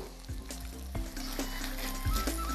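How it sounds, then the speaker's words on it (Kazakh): Chicken frying in a pan for a Japanese oyakodon breakfast, giving a steady, close sizzle with a few brief stirring bumps and no talk. "Ал тауық қуырылып болған сияқты."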